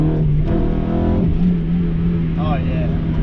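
An EK Honda Civic, a budget build, driving with its engine revving: a loud, steady engine drone with rising and falling pitch, under a voice talking throughout.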